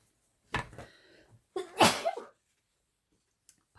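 A single person's sneeze close by: a short indrawn breath, then one sharp, loud burst, followed by quiet.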